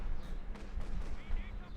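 Gunfire and explosions rumble from a Company of Heroes 2 competitive 2v2 match, with dense low booms and crackling shots under continuous commentary.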